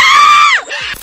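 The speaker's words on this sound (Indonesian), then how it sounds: "monyet itu dengan cepat menarik rambut wanita itu dan membuatnya berteriak kesakitan" A woman shrieks in pain as a monkey yanks her hair, one loud sustained high scream that breaks off sharply and trails into a second shorter cry.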